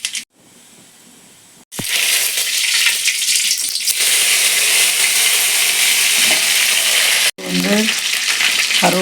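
Mustard seeds and urad dal spluttering and sizzling in hot oil for chapati kurma, a loud dense crackle that starts abruptly after a quiet moment and continues steadily, with a brief clink near the end.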